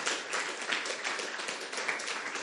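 Church congregation applause, dense and sustained clapping from many hands that fills the room evenly, with no voices over it.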